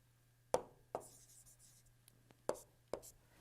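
Chalk or pen strokes on a board during a steam nozzle flow lecture, four sharp separate taps and scratches spaced unevenly over a quiet room with a steady low hum.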